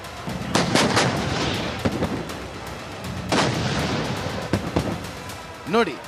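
Gunfire and artillery along the India-Pakistan border, several sharp broadband bangs in a loose irregular series with rumbling echoes between, heard from a distance and fairly loud.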